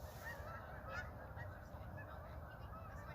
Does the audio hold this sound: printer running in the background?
no